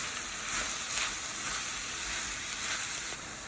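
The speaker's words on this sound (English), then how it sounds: "Now all vegetables are sauteing." Mixed vegetables including yellow squash sauté in a pan for a meat sauce, a dense, even hiss of frying held close and steady throughout, with no voices.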